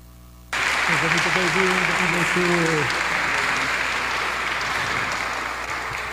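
Applause welcoming a professor to a church Bible and theology week evening session, breaking out suddenly and continuing as steady clapping from the gathering, with a speaking voice heard briefly over the start.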